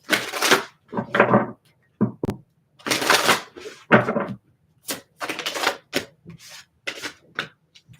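Fairy Lenormand cards are shuffled and handled in short, crisp bursts of papery riffling and rubbing, separated by brief pauses, close and moderately loud.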